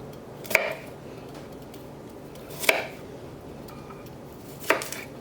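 A knife chops through shallots on a board, cutting them into quarters: three sharp, separate knocks spaced about two seconds apart against a quiet background.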